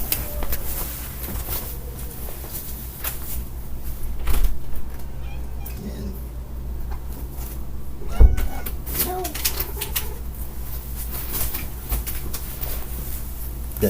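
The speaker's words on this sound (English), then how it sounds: "As my cat is trying to get inside." A pet cat named Tyler meows to be let inside. The meows are faint and scattered, mixed with door and room noises, and there is a louder knock or thump partway through.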